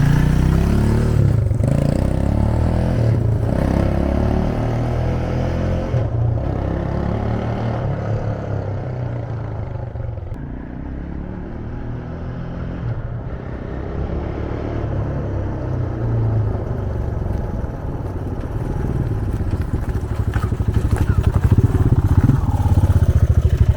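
A Honda 450 Foreman ATV with 16,000 miles and flat-spotted tires runs loudly up close, its engine rumbling and revving with a clattering undertone that eases off and builds again under engine braking.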